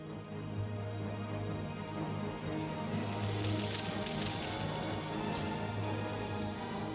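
A tropical rainstorm pours down in a steady, dense hiss of heavy rain, continuous and even throughout, with no voices.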